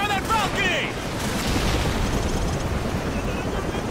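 Sustained gunfire fills a Call of Duty Modern Warfare 4 battle scene, a dense, loud wash of shots and booms with no clear gaps, while a voice briefly rises over the din near the start.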